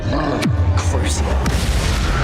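A Crucio curse cast during Hogwarts Legacy combat lands as a heavy, booming magical impact with a sweeping whoosh, followed by a low rumbling tail under ongoing battle noise.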